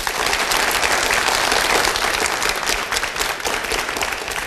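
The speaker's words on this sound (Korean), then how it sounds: "박수 한번 해주십시오." Sustained, loud applause from a concert audience fills the hall after a performance of a Spanish-flavoured piece by Ravel ending with a burst of percussion; dense, steady clapping continues throughout, with no talk over it.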